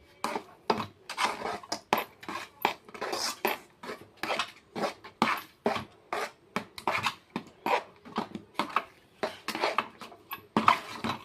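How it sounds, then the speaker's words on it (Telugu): A spoon scrapes and knocks steadily against a pan as Karachi Bombay halwa is stirred over a slow flame, a repeating rhythmic rasp with light metallic clinks, close and alone. "స్లో ఫ్లేమ్లో పెట్టుకొని తిప్పుకుంటూ ఉండాలి."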